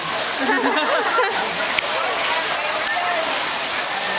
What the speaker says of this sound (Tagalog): it really sucks that it's raining